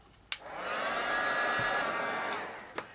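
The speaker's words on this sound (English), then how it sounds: "And now what we're going to do is just to heat dry it." Heat gun or hair dryer drying a mixed media plaque: a steady, close whooshing blow that switches on with a click, runs about two seconds and cuts off with a second click.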